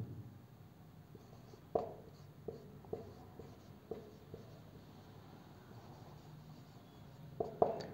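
A pen or marker sketches a graph on a board in a classroom lesson, making scratchy strokes punctuated by several sharp taps as lines start and end, close and fairly quiet over a low room hum.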